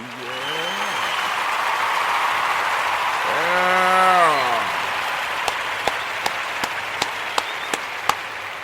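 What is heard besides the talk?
audience applause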